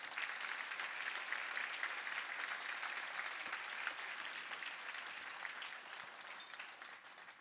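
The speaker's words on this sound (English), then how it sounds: "Let's give all of our sponsors a big round of applause." An audience at an evening awards gala for a business hall of fame breaks into sustained, even applause for the event sponsors, a dense wash of clapping that holds steady and then tapers slightly toward the end, heard from a distance.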